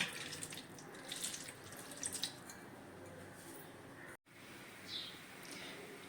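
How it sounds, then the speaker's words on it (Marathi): Cold water runs steadily from a tap over drained cauliflower in a colander, splashing in a sink, a continuous close hiss with a brief break near the end. "चाळणीत काढल्यानंतर लगेचच असं थोडं थंड पाणी त्याच्यावरती टाकून घ्यायचं आहे"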